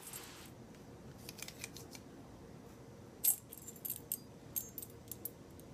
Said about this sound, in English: I have some keys in here.